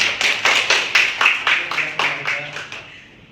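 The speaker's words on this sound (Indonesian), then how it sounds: "mari kita berikan tepuk tangan kepada kelompok" A classroom group claps together for a student group in a steady, even rhythm of about a dozen claps. The claps are close and loud, then fade out at the end.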